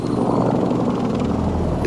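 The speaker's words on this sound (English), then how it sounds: "Two helicopters are traveling towards Abbottabad, Pakistan." Helicopters fly overhead in a loud, continuous rotor drone with a steady pulsing chop that holds evenly throughout, with no voices.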